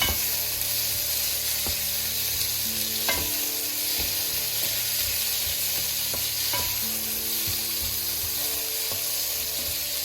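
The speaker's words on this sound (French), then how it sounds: "On mélange et on continue de bien faire sauter le tout." Sichuan green beans stir-fried over very high heat with fermented bean paste and hoisin sauce, a loud continuous sizzle with repeated spatula scrapes and clinks against the pan, no talking.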